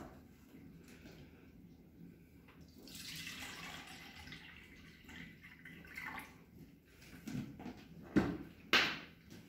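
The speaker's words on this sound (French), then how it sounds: "Je vais commencer par verser l'eau dans le verre mesureur." Water poured into a measuring glass for a wastewater-cleaning experiment makes a soft, rushing splash that builds and then fades, followed by a couple of sharper clinks and knocks near the end.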